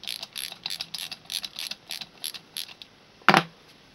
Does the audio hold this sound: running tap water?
no